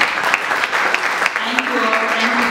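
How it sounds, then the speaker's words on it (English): An audience applauds to welcome speakers at a community storytelling event. The clapping is dense and steady for the whole stretch, with a voice faintly rising beneath it near the end. "Please welcome them with a round of applause."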